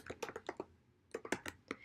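Quiet, close clatter of keys on a computer keyboard as a city name is typed, two quick bursts of tapping separated by a short pause, with no talk.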